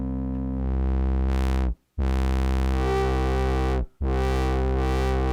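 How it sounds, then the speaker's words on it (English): Modal Craft monophonic DIY synthesizer playing sustained notes with its built-in distortion drive engaged, giving a loud, buzzing, gritty tone in long held phrases, broken by two short silent gaps, with no talking. "We've also got a little built-in distortion unit."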